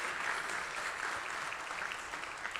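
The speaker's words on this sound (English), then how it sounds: "So a round of applause for this round of grantees" Steady applause from a crowd, a dense patter of many hands clapping throughout, fairly distant and even in loudness with no pauses.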